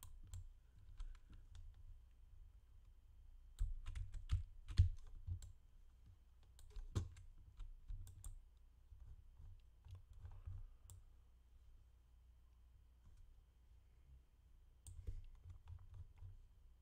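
Computer keyboard typing with irregular bursts of quiet clicking and key presses, close and fairly faint, with a few louder clacks, no talking.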